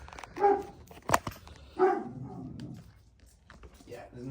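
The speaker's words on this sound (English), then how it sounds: "Fucking dog." A dog barks a couple of times at moderate distance in a garage setting near a Triumph Daytona 675 motorcycle under repair, with a person talking around the barks.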